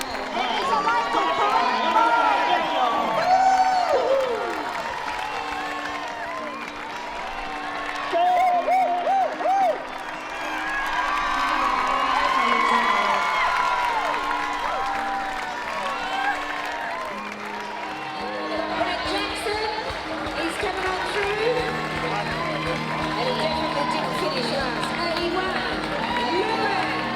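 Dense crowd cheering, clapping and whooping lines the streets of a running race, with spectators shouting as runners climb out of a bottom corner; loud and sustained throughout, with voices calling over the roar.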